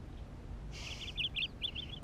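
Small bird chirping indoors, a quick run of high, bright chirps, close and clear over a quiet room hum.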